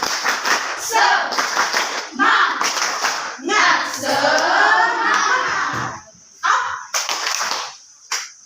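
A group of schoolchildren perform a rhythmic spirit clap, patterned bursts of clapping mixed with shouted chanting, pausing between phrases and ending in a few final claps.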